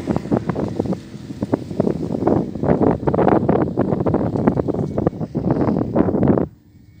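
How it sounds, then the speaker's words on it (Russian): Strong mountain wind gusts in the hills above Batumi during a mountain-bike ride, buffeting the microphone in loud, uneven bursts for several seconds before cutting off abruptly near the end. "Ветер подул, холодно стало."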